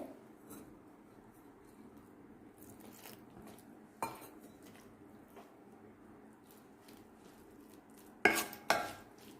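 Cornflour, salt and chili powder batter for potato twisters being mixed by hand in a bowl: soft, quiet squishy stirring with faint scrapes and clinks, ending in a couple of sharper knocks.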